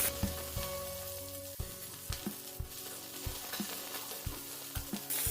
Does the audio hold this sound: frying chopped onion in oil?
yes